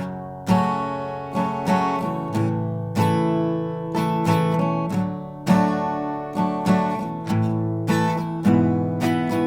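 Acoustic guitar strummed in a steady, unhurried pattern through a chord progression, chords ringing clearly with regular down-up strokes and accented hits, no voices.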